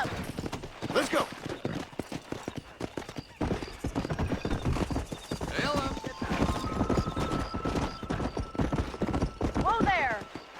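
Rapid rhythmic hoofbeats of galloping horses in the Western video game Red Dead Redemption drum steadily throughout, with neighs and whinnies rising near the end and character voices talking over the riding.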